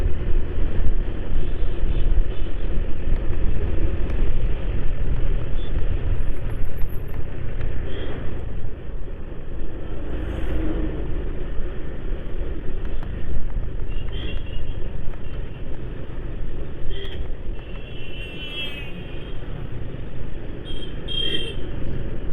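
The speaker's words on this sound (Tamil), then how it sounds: "டூ வீலர்ஸ் தான் வருது பின்னாடி வண்டி வரல" Steady, loud road rumble of motor traffic, including two-wheelers, moving along the Thiruvarur–Nagapattinam national highway, continuous throughout with no talking.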